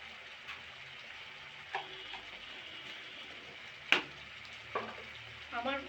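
Spice masala with a little sugar sizzling and frying in hot oil in a pan for egg masala, a steady soft crackle with a few sharp clinks of a spoon stirring against the pan.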